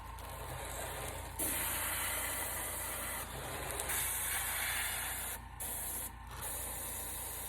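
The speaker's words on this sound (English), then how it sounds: "We're gonna clear the airbrush out." Airbrush hissing steadily as it sprays makeup onto a mustache, a continuous close spray with brief pauses and restarts.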